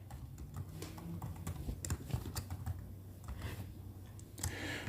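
Rapid keystrokes on a computer keyboard as a getter method is coded, steady irregular clicking running throughout at close range with no talking.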